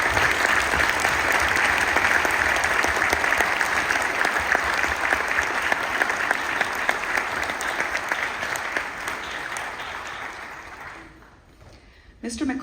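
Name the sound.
applause for band parents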